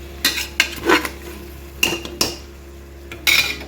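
Marinated chicken stirred into biryani masala in a metal pot, with a few sharp spoon clanks and scrapes against the pot in short separate bursts, close by and clear, no voices.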